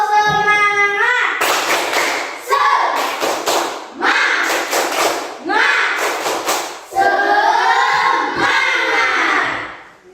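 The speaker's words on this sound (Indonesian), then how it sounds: "beri tepuk semangat" A class of children claps a rhythmic spirit clap together in bursts of quick, loud group claps and slaps, with chanting voices between the patterns in a classroom.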